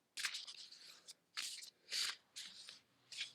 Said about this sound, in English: I'm going to shuffle the cards and pull a card.